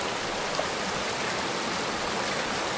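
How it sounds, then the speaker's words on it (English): A mountain stream rushes at a hiking trail crossing in an Idaho national forest, a dense, steady broadband wash of flowing water that stays close and constant throughout with no voices. "Came up on my second stream crossing."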